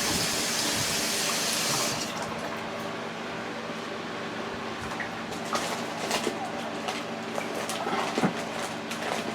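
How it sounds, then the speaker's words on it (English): Hands washed under a running kitchen tap while making a sweet potato and yam pie: a loud steady rush of water at first, then a softer flow with small splashes and scattered clinks. "Let me just wash my hands."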